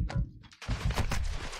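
Rapid gunfire from a sniper rifle in a first-person shooter video game, loud broadband cracks in a dense burst with a short pause, then sustained shots continuing to the end.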